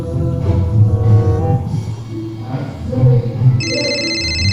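Phone ringtone trilling near the end of the clip, a repeated electronic tone sounding over a noisy room where people talk before the call connects.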